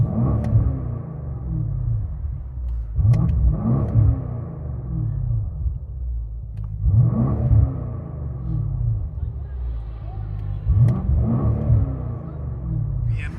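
A straight-piped BMW SUV's deep exhaust rumble swells in repeated rev bursts, heard muffled from inside the vehicle, with quieter idling between the surges.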